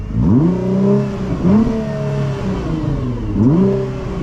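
A Nissan GT-R engine revs up to about 4,000 RPM in repeated rising pulls, each climbing and easing off, heard from inside the car, close and fairly loud with no talking.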